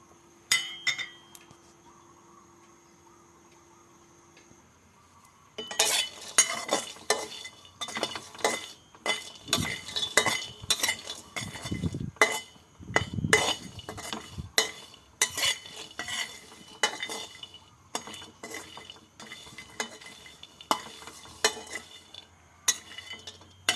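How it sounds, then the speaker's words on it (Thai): Food is stirred in a pan over the heat with a utensil, giving dense, continuous clinking and scraping against the metal with a faint sizzle underneath. It starts after a quiet opening and runs busily to the end with no voices. "แล้วก็คนไปเรื่อยๆนะครับ ให้มันสุกสม่ำเสมอกัน"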